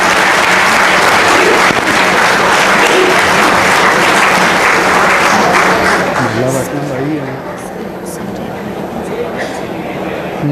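An audience at an international Buddhist conference in Nagpur applauds loudly to welcome foreign delegates, a dense roar of clapping that fades after about six seconds, leaving a voice speaking over scattered claps.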